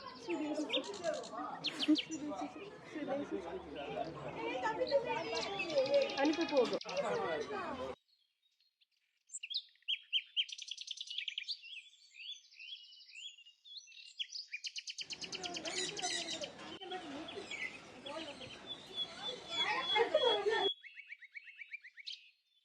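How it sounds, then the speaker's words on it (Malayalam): Parrots chirp and tweet in quick bright bursts, standing out clearly through a quiet middle stretch and mixed with people talking nearby before and after. "അങ്ങനെ ആവണി ഒരു ഡിസ്നി പ്രിൻസസിനെ പോലെ തത്തകളെയുമായി നടന്ന് നീങ്ങുകയാണ്."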